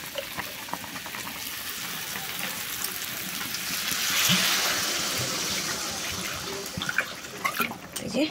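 Water is poured into a simmering fish curry in a pan, giving a rising hiss and bubbling sizzle up close, with small clinks and faint voices around.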